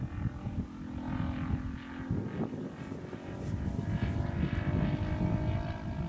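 The engine of a 1/4 scale Hurricane model airplane drones in flight with a buzzing propeller tone. The sound swells and fades slightly as the plane passes, heard at a moderate distance over outdoor background noise.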